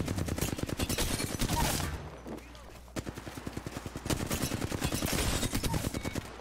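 Rapid automatic gunfire from an Apex Legends firefight, dense bursts of shots crackling almost continuously with a short lull midway before another sustained volley, close and loud over a busy game mix.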